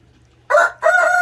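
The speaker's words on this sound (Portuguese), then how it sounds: "Fiquei só com dois galos." Rooster crowing in a small backyard chicken coop on a hot day, two loud close calls in quick succession after a brief pause, with no talking.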